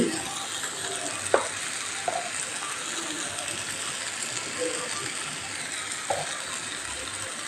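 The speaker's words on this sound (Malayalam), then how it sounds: "എല്ലാം കൂടിയിട്ട് നന്നായിട്ട് ഒന്നുകൂടി വഴറ്റാം" A steady, low sizzle of masala for mackerel (ayala) being sautéed in a pan with turmeric, chili and pepper powders, with a few faint clicks from stirring throughout.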